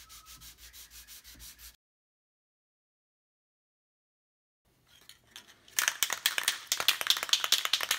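Fine high-grit sandpaper rubbing over the headstock of an EXP-style guitar kit, a soft scratchy sanding texture that starts after a quiet gap and builds into steady close strokes.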